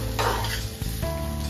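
Goan beef roulade fries in a pan with a steady sizzle and a few clinks of cookware, moderately close and without talk.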